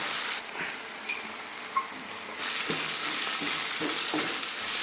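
Onions and masala fry in a pan for a crab gravy, a steady close sizzle with scraping stir strokes and light clinks, loud throughout with no talking.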